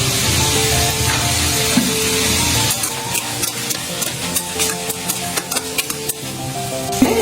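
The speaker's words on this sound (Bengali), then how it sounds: "সামান্য হলুদ আর লবণ দিয়ে আমি এখন আলুগুলোকে কিছুক্ষণ ভেজে নেব" Peeled boiled potatoes fry in a pan with turmeric and salt. A bright, continuous sizzle comes first, then gives way to quick clicks of a spoon scraping the pan, with soft music underneath.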